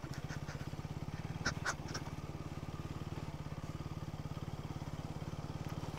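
A KTM motorcycle engine runs steadily on an off-road forest track, with a continuous rapid throbbing drone and a couple of brief clatters partway through.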